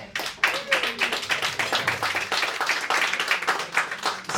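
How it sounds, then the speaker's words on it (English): Audience at a comedy club hosting night at Abingdon Grill claps in a dense, sustained burst of applause, many hands at once, fairly close, with a brief voice audible early on. "See, I swelled my voice at the end, so you all need to clap"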